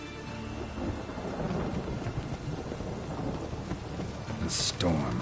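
Thunderstorm in The Witcher video game: steady loud rain with rolling thunder throughout, ending in a sharper crack, with no speech.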